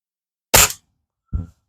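Two sharp reports from a Norica Titan spring-piston air rifle being plinked, the first loud and full, the second shorter and softer about three quarters of a second later, with silence between and no talk.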